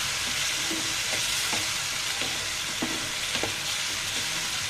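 Potatoes with turmeric and chili spices sauté in oil in a pan, a loud, dense sizzle with rhythmic scraping strokes of stirring throughout.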